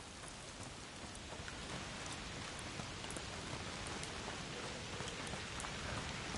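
Steady, dense rainfall from the video game A Plague Tale: Requiem, a constant even hiss of heavy rain with scattered droplet patter, heard alone without any voices.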